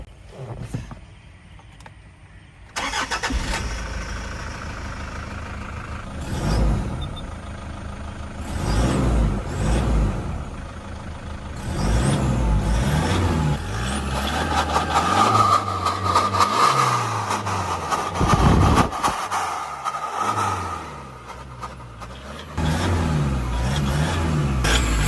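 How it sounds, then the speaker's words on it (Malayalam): A tuned Toyota Fortuner's engine starts, then idles and revs repeatedly for about twenty seconds, loud and close, its exhaust note rising and falling in blips with short pauses between them and no voices. "നമുക്ക് എന്തായാലും ഇനി ഒരു വാഹനത്തിൻ്റെ എക്സോസ്റ്റ് നോട്ട് ഒന്ന് കേട്ട് നോക്കാം"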